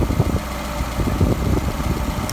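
Car engine idling steadily with a Solex carburetor while the idle mixture is fine-tuned, a continuous low rumble with slight unevenness throughout.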